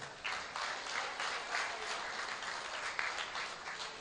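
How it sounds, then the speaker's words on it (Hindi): An audience at a Hindi poetry gathering claps steadily, a dense sustained burst of applause from a crowd, fairly even in loudness throughout. "जोरदार तालियां बजा दो"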